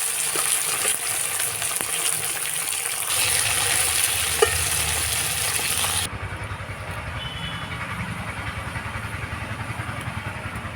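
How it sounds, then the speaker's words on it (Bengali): Deshi bele fish (tank goby) fry in hot mustard oil with a dense, steady sizzle and crackle that continues unbroken, loud and close throughout. "এইভাবে লাল লাল করে মাছগুলো ভেজে নিতে হবে"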